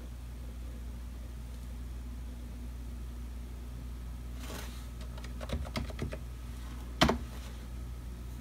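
Keys tapped on the keyboard of a late 2006 iMac, a handful of quick soft clicks over a steady low hum, followed by one sharper, louder keystroke.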